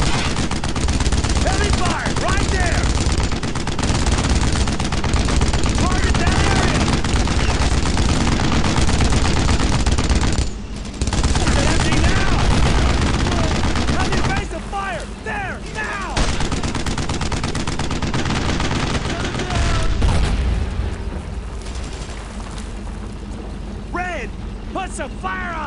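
Heavy suppressive gunfire in the WWII shooter Brothers in Arms: Road to Hill 30, dense continuous rifle and machine-gun bursts filling the scene, loud and close, with shouted voices over the battle and a brief lull midway.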